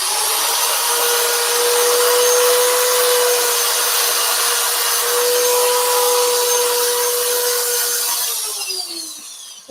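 A drill fitted with a Klingspor Quick Connect sanding attachment sands wood in a steady, loud whine with a rough abrasive hiss, running continuously for several seconds before winding down at the end.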